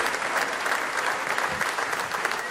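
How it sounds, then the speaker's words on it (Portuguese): A congregation applauds in church, steady dense clapping that fills the room at close range, with some cheering mixed in and no talk over it. "Aplaude o Senhor!"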